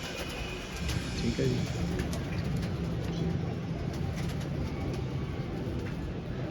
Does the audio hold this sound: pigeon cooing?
yes